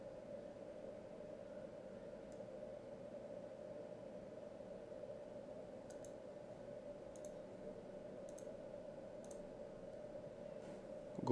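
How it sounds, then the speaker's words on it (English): A handful of sharp, faint mouse clicks spaced a second or so apart while using the select tool in GIMP 2.8, set against a quiet steady room hum, with no one talking. "I use this select tool this time. Click somewhere around here."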